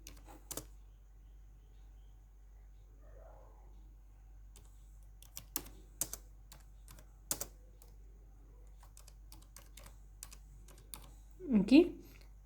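Computer keyboard typing as a title is entered in Microsoft PowerPoint, sparse isolated key clicks spread out over a quiet background, with a brief spoken sound near the end.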